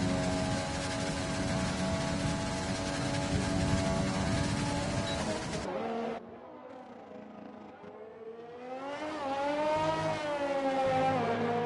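An F4 race car laps the Brazil circuit in a racing video game, its engine a loud, steady high whine that drops sharply as the driver lifts off, then climbs again through rising revs.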